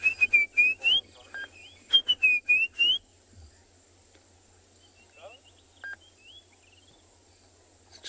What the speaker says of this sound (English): Robins are starting their evening call.